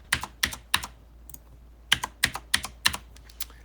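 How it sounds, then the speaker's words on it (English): Keystrokes on a computer keyboard while entering a username and password during an Ubuntu install in a virtual machine: a close, quiet run of sharp key taps in short irregular bursts with a brief pause, no speech. "So I'm just gonna type in user and make a super secure password."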